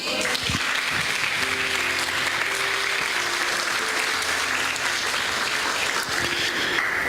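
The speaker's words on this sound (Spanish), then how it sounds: "Den un aplauso al Señor por eso." A church congregation applauds during a sermon, a steady, dense wash of clapping that runs throughout at even loudness, with faint voices beneath.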